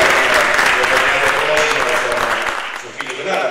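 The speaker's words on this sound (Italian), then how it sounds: "Ma solo un applauso per la mamma." Audience applause at a book presentation event in Martina Franca, a dense, steady wash of clapping throughout that thins slightly near the end, with voices mixed in underneath.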